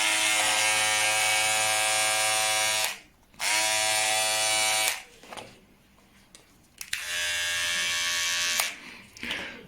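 Rowenta Advancer TN5200 cordless hair clipper running, a close, steady high-pitched motor buzz that switches on and off several times with short quiet gaps between bursts.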